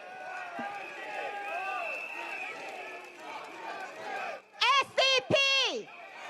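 Crowd at a Singapore Democratic Party outdoor rally at Beacon Primary School in Bukit Panjang keeps up a steady murmur of chatter and cheers, then several loud shrill whistles rise in quick succession near the end.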